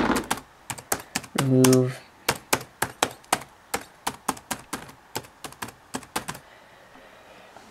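Commands typed on a laptop keyboard during a Linux Mint install on a Compaq Presario A900, a series of crisp, close keystroke clicks in uneven bursts, with a brief spoken word early on.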